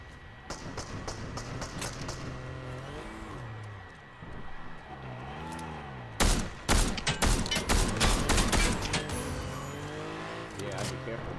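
Gunfire in a video game: sharp, loud shots break out partway through and continue in quick irregular bursts, after a stretch of car engine and driving noise, with people talking throughout.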